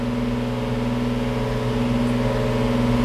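A Lamborghini engine idles steadily at around 2,500 RPM during an oil change, a constant close droning hum with a strong low tone and no revving, running alone without talk.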